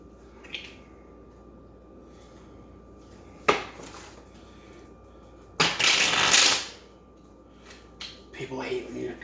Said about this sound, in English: I've got my trusty tarot deck here. Give this a good shuffle.